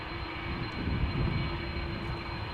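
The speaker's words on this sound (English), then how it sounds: "We have an American Dreamliner already taxiing to the runway threshold. This is the one we're hearing right now." An American Boeing Dreamliner taxis at Amsterdam Schiphol Airport toward the runway threshold. A steady broadband jet engine rumble with a constant hum holds throughout, heard from a distance outdoors.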